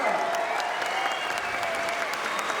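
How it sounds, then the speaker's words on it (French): An audience applauding at the Moteurs Action car stunt show at Disneyland Paris: a dense, sustained wash of clapping from a large crowd, loud and even, with an announcer's voice mixed in. "Je vous demande un tonnerre d'applaudissements, s'il vous plaît."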